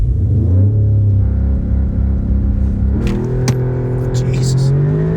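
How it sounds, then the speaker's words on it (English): An Audi S3 with a Haldex all-wheel-drive system launches hard on a wet surface, its engine rumbling and then revving up strongly as it accelerates, loud and close throughout. "we're going to launch it"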